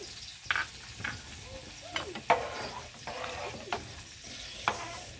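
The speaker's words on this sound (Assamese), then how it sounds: "ফুলকবি আৰু আলু মই ভাজি আছোঁ।" Cauliflower and potato pieces frying with green chilli for khichuri sizzle close by, while repeated scraping stirs against the pan come in uneven strokes every second or so.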